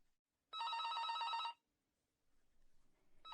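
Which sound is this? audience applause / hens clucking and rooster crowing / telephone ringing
telephone ringing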